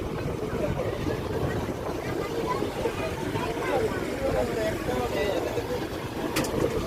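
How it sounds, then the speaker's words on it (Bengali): A passenger launch passes alongside on a breezy river. A steady low engine rumble and water wash blend with wind buffeting the microphone throughout. "আমাদের পাশ দিয়ে লঞ্চটা যাচ্ছে।"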